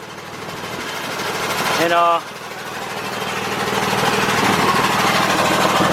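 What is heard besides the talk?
air compressor running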